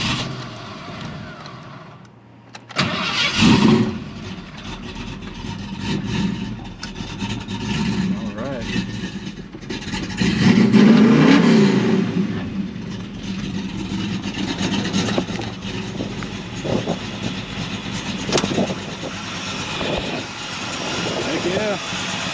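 A Chevelle engine fitted with a 650 double pumper carburetor cranks, catches and revs. It is loud and close, with rising and falling surges over a rough, continuous running note.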